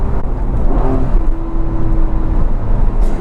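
Porsche 911 997 Carrera 4S with all-wheel drive and a manual gearbox driving on the road in convoy, a loud steady engine drone and road rumble heard from inside the car.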